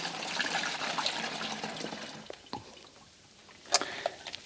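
Used cleaning bath liquid is poured out of a container, a splashing trickle that thins into scattered drips, then a couple of sharper splashes near the end.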